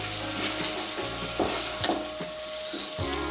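Tomatoes frying in oil sizzle steadily in a pan for an onion tomato curry while a spoon stirs them, adding occasional scrapes and knocks against the pan over the constant close hiss.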